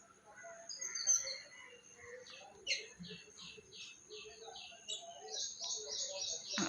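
Jungle babblers give repeated short chirping and chattering calls while feeding on scattered rice. The calls come in quick clustered bursts at close range, with faint background noise.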